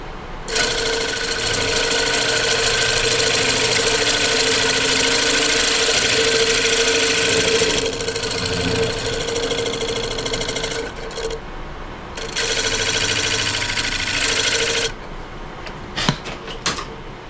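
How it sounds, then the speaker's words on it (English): A square carbide cutter bites into wood turning on a lathe for a mortise, giving a loud, steady grinding buzz that runs for several seconds, breaks off, resumes, then ends in a few short sharp bursts. "All right, so I have my square carbide in hand. Just going to set it here and go straight in and then work it across."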